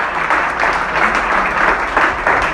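Church congregation at a Christian sermon breaks into strong, sustained applause, dense clapping with slight swells, loud and close, with no speech over it.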